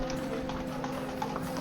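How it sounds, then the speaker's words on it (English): Horses' hooves clopping on a town street at a Boxing Day hunt in Denbigh, a dense, steady patter of many hooves amid constant crowd and street noise, with no clear talk. "the hounds, the horses and the riders begin to move off"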